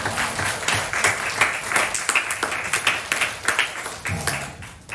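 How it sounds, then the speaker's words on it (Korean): A church congregation claps in applause at a Korean Presbyterian anniversary worship service, a dense rhythmic patter of many hands, steady and fairly loud throughout. "하나님께 영광의 박수."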